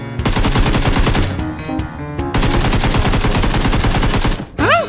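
Automatic gunfire sprayed from a window in a shooting video game: long, loud, rapid bursts of close shots with a brief pause, then a final short sound at the end.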